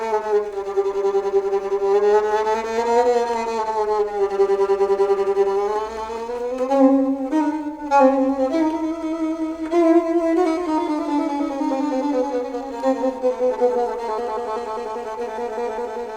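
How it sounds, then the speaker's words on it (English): Solo violin playing a long passage with sliding quarter-tone inflections from the last movement of a Bartók solo sonata, a sustained, continuous melodic line heard alone and close, with no talking. "in the last movement of this Bartok sonata, he writes these long passages filled with quarter tones."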